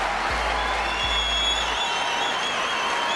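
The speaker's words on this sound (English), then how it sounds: "rapturous applause" Rapturous applause from a snooker crowd greeting Stephen Hendry at a tense moment on a re-spotted black: a steady, dense wash of clapping that holds evenly throughout, with no voices on top.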